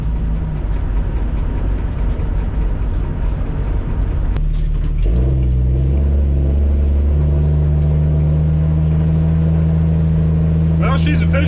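A 1965 Ford Mustang on the road, heard from inside as a steady engine drone and road rumble that shifts tone partway through, holding a loud, constant hum with a brief clunk before the change.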